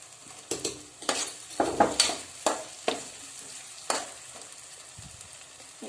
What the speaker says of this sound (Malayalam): ഇനി നമ്മൾ ഇഞ്ചിയും വെളുത്തുള്ളിയും പേസ്റ്റ് ഇട്ട് കൊടുക്കാം